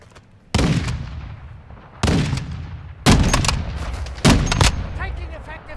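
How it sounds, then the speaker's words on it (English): Gunfire in the Warzone 2.0 DMZ video game: four loud, heavy shots or short bursts spaced about a second apart, each with a long rumbling tail, close and booming. "Someone's shooting down here."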